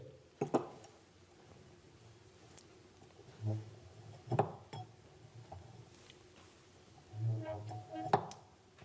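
Wine glasses clink and ring in a science lesson at a Steiner Waldorf school, a handful of faint, scattered chinks with brief resonant tails against a quiet room.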